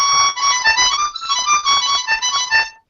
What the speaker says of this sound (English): So the flat 7 draw just takes your 7 draw note that usually sounds like this.